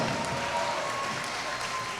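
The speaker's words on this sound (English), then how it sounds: "big round of applause for these two fighters" An audience at an amateur fighting championship event applauds two fighters after a three-round bout, with steady, even clapping that fills the room throughout.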